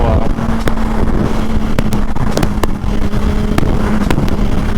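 A motorcycle rides away from a bike meet, its engine a steady, loud drone mixed with rushing wind noise that holds for several seconds.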